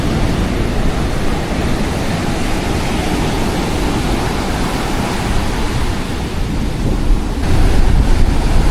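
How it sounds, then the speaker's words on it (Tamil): Sea waves roll in fast and break on the beach at Kozhikode, a loud, continuous roar of surf that swells near the end, with no voices. "இங்கே அலை வந்து ரொம்ப வேகமாக வந்துச்சு"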